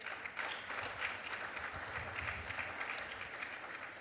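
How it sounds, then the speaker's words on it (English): An audience at a compliance summit panel discussion applauds the panelists, a dense, steady wash of many hands clapping throughout, fairly distant and even in level. "give a very resounding round of applause to our panelists"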